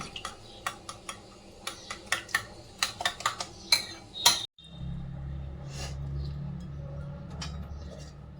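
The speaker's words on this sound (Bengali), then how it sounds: "ভালো করে ফেটিয়ে নিয়ে কড়াইয়ে দিয়ে দিচ্ছি" Eggs beaten with a utensil in a bowl, a run of close, sharp clinking taps against the rim, then a sudden low sizzle and hiss as the mixture hits the hot wok with a little white oil, and it keeps frying steadily.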